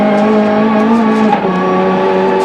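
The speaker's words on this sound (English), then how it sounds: "You hear that turbo come on like a bomb. Heaps of wheel spin." A high-boost turbo Ford race car at the 1992 Bathurst race roars loud and close with a steady, buzzing engine note and spinning wheels, the pitch dipping briefly midway before the drone carries on.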